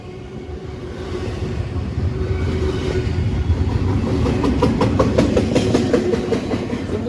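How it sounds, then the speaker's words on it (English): CSX train I-157, led by a 1973 Chessie heritage locomotive, rolls past a station platform with a loud, steady rumble that swells and is joined by rhythmic clickety-clack of the wagons over the rail joints. "Wait a minute, we got a train here"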